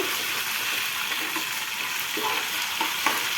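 Ginger-garlic paste frying in a pan for a boneless chicken masala curry, a steady soft sizzle with a few light scraping stir sounds, no voices.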